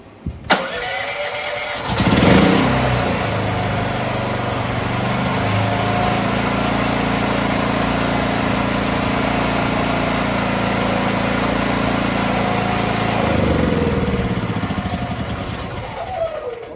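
A Predator 8750 watt inverter generator converted to run on propane starting up: a sharp click and brief cranking burst, then a steady mid-pitched engine drone running evenly and loudly for the rest, close by, with no speech.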